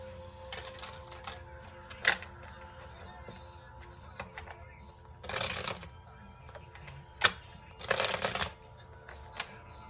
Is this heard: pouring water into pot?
no